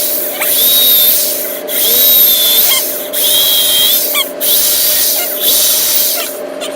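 A power drill whines in four or five bursts, each rising in pitch and cutting off, with short pauses between as it bores into pallet wood.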